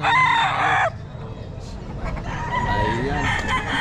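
A Boston Roundhead gamefowl rooster crows loudly and close at a busy pet market, one strong crow followed by further clucking and crowing calls over crowd chatter and market noise.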